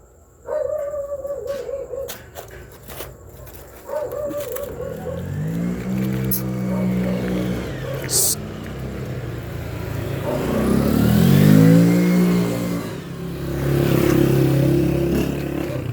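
A car approaches and arrives outside a home, its engine rising and revving gradually louder, with dogs barking nearby and faint voices in the background.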